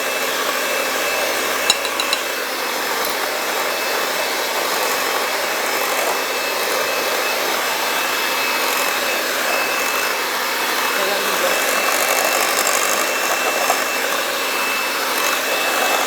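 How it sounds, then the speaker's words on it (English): A stand mixer whips cream for a raspberry tiramisu, its motor giving a steady, loud whir that runs unbroken for the whole stretch with no pauses. "again, with the stand mixer, it's just so much easier"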